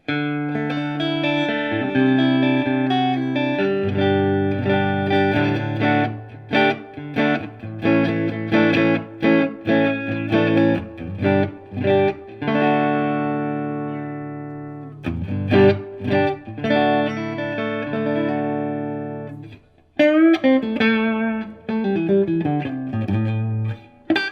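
Clean guitar chords and single-note lines from a Mexican Stratocaster played through a Fender Tone Master Deluxe amp with impulse response and room microphones, ringing with sustained harmonics, short pauses between phrases and a brief gap near the end.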